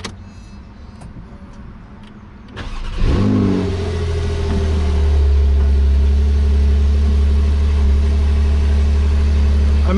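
Starter cranking for a couple of seconds, then a Porsche 911T engine catches with a rev and settles into a loud, steady, close idle.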